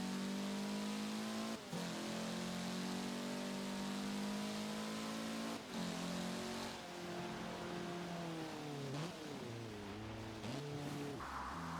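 A car engine revs and shifts through the gears in a Forza Horizon 4 Eliminator race. The pitch climbs, drops and surges again in a loud, continuous drone with no voices over it.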